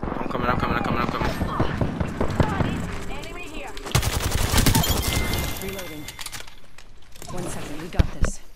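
Rapid bursts of gunfire in the video game Apex Legends crackle loudly through the scene, dense volleys with a few sharp single shots, while players talk excitedly over the action.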